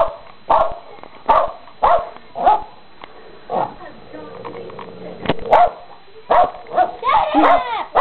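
Several dogs bark and yip in short, loud bursts close by, with a whimpering stretch in the middle, while a person talks to them between barks.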